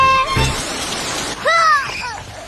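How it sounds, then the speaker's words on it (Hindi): Cartoon rain hisses steadily as a wash of falling drops, with a short thump early on and a few bright whistling tones rising over the downpour partway through. "बारिश हो रही है।"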